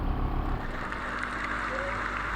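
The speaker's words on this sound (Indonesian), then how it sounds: "Tepuk tangannya kurang semangat." Crowd at a political rally claps in a dense, continuous wash of applause, steady and fairly loud with a faint murmur beneath.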